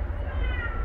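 A cat meows in a single drawn-out cry, close and fairly loud over a low background hum.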